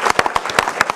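An audience claps in a busy, dense patter for Greek dance teachers at a Asia Minor heritage association event, loud and close.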